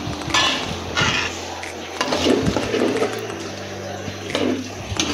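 Dried fish curry being stirred and sautéed in a pan, with repeated metallic scrapes and clinks of a utensil against the pan over a steady sizzle, close and fairly loud.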